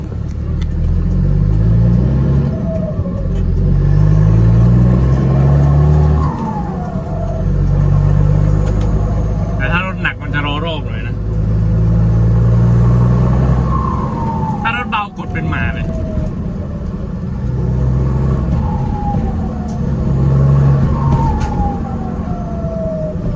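A car engine revs repeatedly with rising whines and sharp turbo blow-off chirps between pulls, loud and close, with a voice talking over parts of it.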